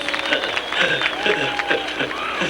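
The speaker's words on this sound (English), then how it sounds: "Big round of applause for Jeff." Outdoor crowd at a 1993 Wisconsin regional water ski show applauding a skier, continuous clapping and cheering with voices mixed in.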